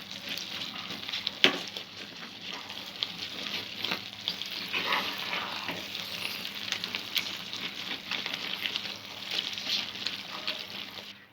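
Bombay Karachi halwa stirred in a pan, a continuous soft sizzle with scraping and stirring noises at a low, steady level, close by, with an occasional louder knock and no speech.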